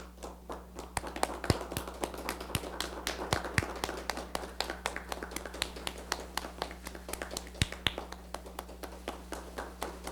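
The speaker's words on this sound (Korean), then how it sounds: "여러분 큰 박수로 맞이해 주시기 바랍니다" A political party's welcome event for two new recruits fills with applause, scattered sharp claps over a steady low electrical hum, somewhat distant and thin but continuing throughout.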